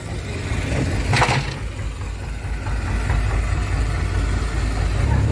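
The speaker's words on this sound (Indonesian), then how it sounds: "Mesin kapal sudah nyala dan kapal sudah mulai meninggalkan." The engine of the fishing boat KM Mandiri runs steadily, a close, continuous low drone with a brief clatter near the start, and no voices over it.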